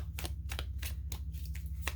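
Tarot cards being shuffled by hand make about seven sharp, papery riffle bursts at an uneven rhythm, close by, over a steady low hum.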